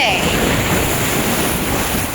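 Ocean waves break and surge on a resort beach in a steady, loud roar of surf, with heavy wind noise buffeting the microphone throughout.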